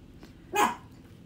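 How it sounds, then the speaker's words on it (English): A pet dog gives a single short bark in the background of a quiet room, loud against low ambience, with no talk over it. "my dog started barking"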